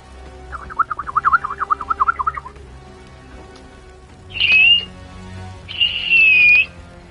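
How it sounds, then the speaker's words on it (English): A person whistles alone: a quick warbling trill of repeated notes, then two longer sustained tones after a pause, fairly loud and close. "I'm practicing my whistle because of some shit."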